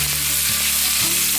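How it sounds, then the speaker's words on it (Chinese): Drained day lily buds and peanuts are stir-fried in a wok, giving a loud, steady sizzle with a couple of soft stirring scrapes over a low constant hum. "金针、花生沥干水分的放进来，快炒一下"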